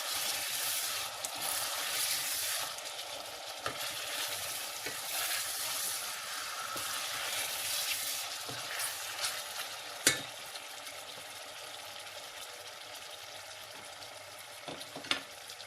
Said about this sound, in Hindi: टमाटरों को भून लेंगे।